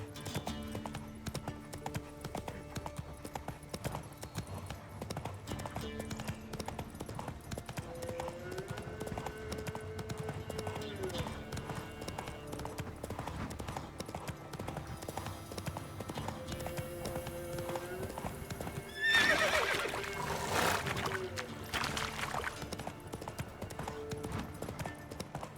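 Video game horse hoofbeats clip-clop steadily at a gallop over a dense background of music and ambience, with a brief louder burst near the end.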